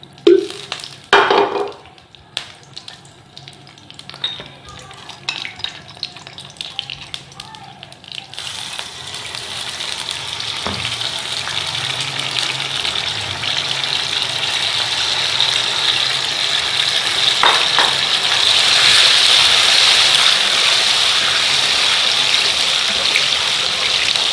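Water is added to a pan of ghee and sugar while making makhana halwa. Scattered utensil clinks and scrapes come first, then a loud, continuous sizzling hiss takes over and builds steadily.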